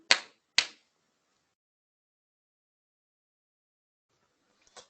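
Claps keep time with a children's song: two sharp, isolated claps close together, then a long silence and a faint third clap at the very end.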